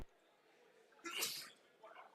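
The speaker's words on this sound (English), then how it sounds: "As I sneeze." A single sharp sneeze bursts out loudly after a quiet moment, followed by a softer breathy sound.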